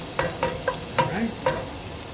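Shrimp arrabbiata cooks in a pan with a soft, steady sizzle, broken by about five sharp clinks or stirring taps spaced roughly half a second apart.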